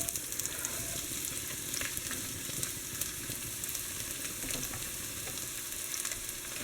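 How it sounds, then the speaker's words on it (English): Chopped onion sizzles in olive oil in a pan, a steady close crackling hiss with light stirring scrapes underneath. "To that, we're going to add our chopped onion."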